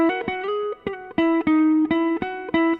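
Plucked guitar plays a simple single-note melody, each note picked cleanly with a bright, ringing tone and brief gaps between phrases.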